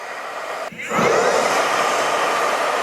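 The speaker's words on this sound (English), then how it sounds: "I like blow drying it up, getting it in front." A hair dryer blows as hair is blow-dried in sections, switching on after a short pause and then roaring loud, close and steady without interruption.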